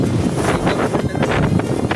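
Sea water rushes and splashes around a small boat near Khanderi fort off Alibaug amid heavy wind buffeting, a constant roaring wash without clear breaks.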